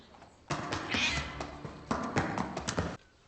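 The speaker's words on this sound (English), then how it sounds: "Aw, kitty." A cat meows in a short drawn-out call lasting a couple of seconds, fairly close and clear, with light tapping around it and no talk.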